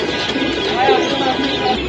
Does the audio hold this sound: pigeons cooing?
yes